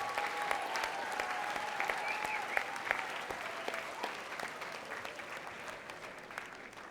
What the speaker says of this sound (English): let's just get a huge round of applause for women surfers all across the world.